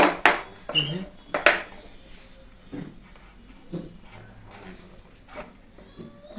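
Half-inch tee and elbow pipe fittings clink and scrape as they are fitted onto threaded pipe in a plumbing workshop, with a few sharp metallic knocks early on followed by quieter handling and occasional light taps.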